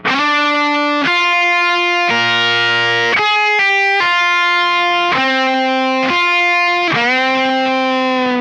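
Distorted electric guitar plays a lick with sliding pitch changes between sustained notes, loud and continuous throughout.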